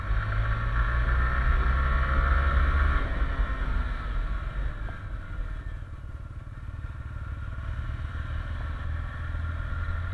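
A Honda Fan 160 motorcycle engine drones steadily while riding at night, loud and close with a rumbling low end and some rattling, running continuously without speech.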